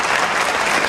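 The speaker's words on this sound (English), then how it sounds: "Rich got applause." Audience at a county sheriff primary debate applauds a Vietnam veteran, a brief, dense burst of clapping that fills the moment with no voices over it.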